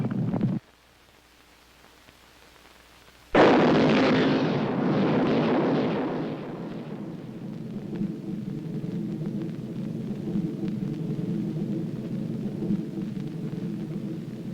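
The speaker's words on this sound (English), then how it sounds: "The United States decided to use its new antimatter bomb." An antimatter bomb explodes in a 1978 film: a sudden, loud, wide blast after a stretch of low drone, then a long, rolling rumble that slowly fades into a steady deep roar.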